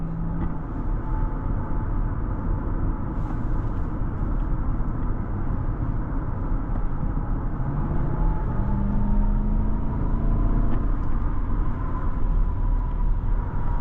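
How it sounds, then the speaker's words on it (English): A 2013 Lexus LS 460 V8 sedan cruising along the road, heard from inside as a smooth, steady low road and engine rumble with faint tones shifting in pitch, swelling slightly toward the end, with no talking. "This car just glides along the road."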